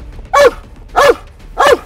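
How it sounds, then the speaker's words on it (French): A dog barks three times at an even pace, each bark loud and fairly close, with quiet pauses between and no talking. "y a un chien qui est en train d'aboyer"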